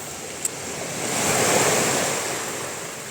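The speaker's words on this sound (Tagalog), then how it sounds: "Hindi naman siya masyadong maalon at malakas ang hangin." Sea waves wash steadily onto the shore at Barangay Sisiman while strong wind blusters over the microphone, a continuous roar that swells in the middle with no voices.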